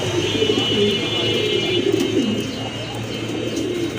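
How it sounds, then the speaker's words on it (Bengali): Pigeons for sale coo low and soft in a loft, a murmuring throaty warble repeated under steady background noise and a faint high whine. "এই যে দেখেন কবুতর"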